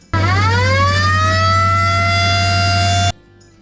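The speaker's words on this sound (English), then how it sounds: "that's Siren" A loud antique Federal mechanical siren mounted on a truck winds up quickly and holds a steady wailing tone with a deep rumble beneath, then cuts off abruptly.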